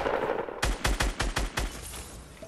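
Automatic gunfire in a squad match of a building shooter video game, a loud burst of about seven rapid, evenly spaced shots that cuts in after a soft lead-in and then fades out.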